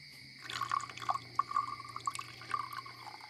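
Drinks are poured into several glasses, giving quiet, trickling liquid splashes in short, uneven bursts with faint glassy ringing, close by in a hushed room.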